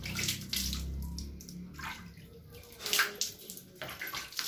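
Tap water running and splashing into a tub while a dog is bathed, a close, uneven stream with sloshing bursts and gurgles rising and falling.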